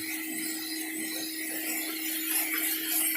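Hand sanding of Bondo body filler during a BMW bodywork repair, a steady, fairly faint abrasive rubbing that keeps going without pause.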